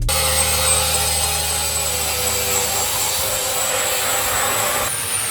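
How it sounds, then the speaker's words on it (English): Plasma cutting and grinding on the bed of an old, badly rusted ute, a continuous loud hissing, whining roar with a steady high tone, cutting off sharply near the end. "That's HUD doing the plasma cutting in the bed."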